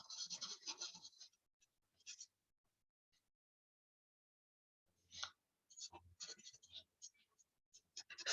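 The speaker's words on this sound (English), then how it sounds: "And again, I'm writing something else." A pen scratches on paper in quiet, intermittent bursts of writing, with a long pause in the middle before the scribbling resumes in short strokes.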